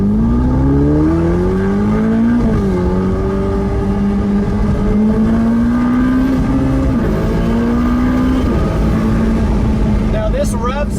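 2020 Ferrari F8 Tributo Spider with the roof down, its engine droning loud and steady as revs climb in long pulls with brief gear-change dips, wind noise throughout.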